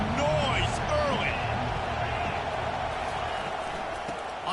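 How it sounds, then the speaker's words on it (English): Roar of a football stadium crowd at a Sooners vs Huskers game, a broad steady wash of distant voices and cheering with faint whistles rising through it. "This crowd bringing the energy and noise early."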